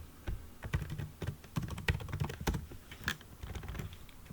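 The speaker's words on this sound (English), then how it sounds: "I'll start out by typing a random sentence in Italian." Someone types a random sentence in Italian on a computer keyboard, a quick, uneven patter of close key clicks with no talking.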